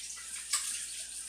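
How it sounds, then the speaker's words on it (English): Tap water running while hands are washed in a kitchen, a faint steady hiss of flow with a brief louder splash partway through. "wash my hands"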